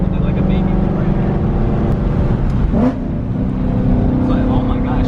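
Car with a Ford Coyote V8 and a freshly fixed clutch making a small launch, a loud engine rev rising and surging close by, with a voice talking over part of it.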